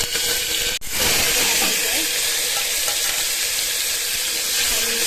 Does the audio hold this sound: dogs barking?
no